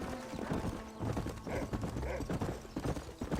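Horse hooves clip-clop in Red Dead Redemption, a steady, close rhythm of hollow knocks with a soft snort or whinny partway through.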